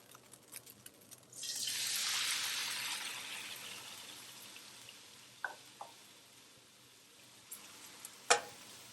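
Chicken, mushrooms and onions for fajitas fry in a pan with a sudden hiss that swells and then slowly softens to a quieter sizzle, broken by a few light clinks of a utensil.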